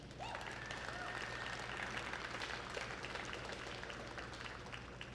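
An audience at a junior show at the provincial exhibition in Fredericton, New Brunswick claps in a steady, fairly faint burst of applause that continues throughout.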